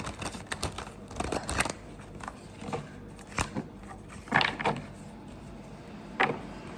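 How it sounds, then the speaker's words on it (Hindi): Deck of tarot cards being shuffled, giving close, crisp bursts of riffling and flicking with short pauses between them, quiet and with no one speaking. "एक और बार शफल करना है मुझे।"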